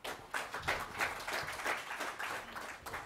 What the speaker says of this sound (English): So please give Frank a round of applause and a warm welcome.